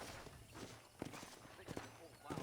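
Horse hooves clip-clop at a walking pace in the Red Dead Redemption video game, soft rhythmic thuds heard under game ambience and spoken dialogue.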